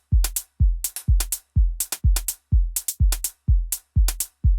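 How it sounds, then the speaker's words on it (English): A hi-hat loop from the Native Instruments Infinite Escape library repeats in a tight, even groove: crisp bright ticks cycle about twice per second over deep thumping low hits, all close and prominent with no talking. "I've added a hi-hat loop here."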